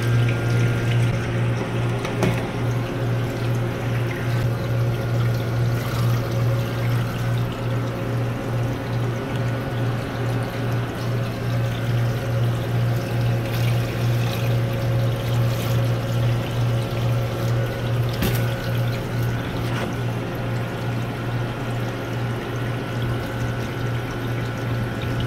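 Water runs continuously through an ice machine that is low on refrigerant, a steady loud flow and splash with a low pump hum underneath that lasts throughout, with no talking.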